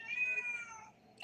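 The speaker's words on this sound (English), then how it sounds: "we're not going to cave into little cat meowings" A cat gives one drawn-out, high, wavering meow at close range, fading at the end into a quiet room.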